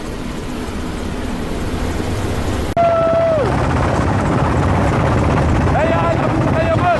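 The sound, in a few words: helicopter flying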